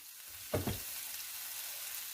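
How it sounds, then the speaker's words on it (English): Garlic goes into a hot frying pan, and a brief splash and crackle is followed by a steady, fairly quiet sizzle that continues on its own. "Then put in our garlic."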